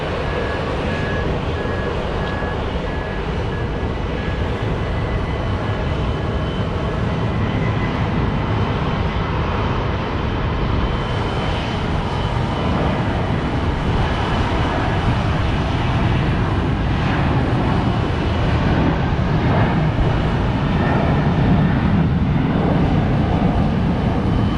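Airliner passing at Phoenix Sky Harbor airport in extreme heat, a steady broadband jet roar that holds loud and continuous throughout with a faint tonal whine, no talk.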